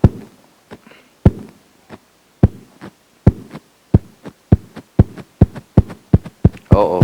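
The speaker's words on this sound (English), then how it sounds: "Heartbeat." A heartbeat pulses in clear, close thumps, starting sparse and then settling into a quicker, regular rhythm, with a brief voice-like sound at the very end.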